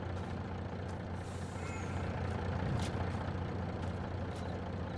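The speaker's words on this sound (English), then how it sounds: "I forgot about the moving truck with the ramp extended." A moving truck with its ramp extended in the Farming Simulator 22 video game gives off a steady, loud low engine drone with brief hissing bursts and sharp clanks scattered throughout.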